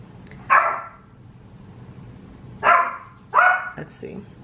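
A dog barks in three short, loud bursts spaced a couple of seconds apart, indoors and close by, with a low background hum between the barks.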